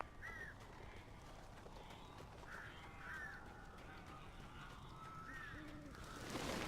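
Crows cawing in the Alan Wake video game, set in Elderwood National Park: several harsh caws recur at intervals, moderately near, over a dense, noisy ambient bed that swells toward the end.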